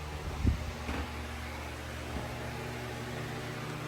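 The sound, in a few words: generator engine running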